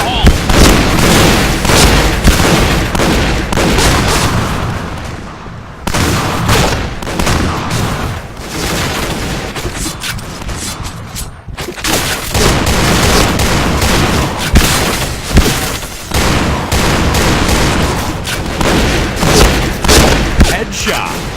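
Grenade blasts and shotgun fire in the online shooter Point Blank, Burning Hall map in shotgun mode: loud, dense, continuous booming and rapid gunshots with brief near-silent breaks, voice callouts mixed in.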